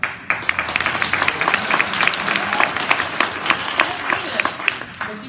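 A presentation audience bursts into applause, with dense crowd clapping swelling after a brief pause and then running on steadily with sharp individual claps standing out, while some voices mix faintly underneath.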